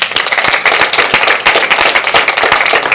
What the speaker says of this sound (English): So I just want to give you a round of applause for that.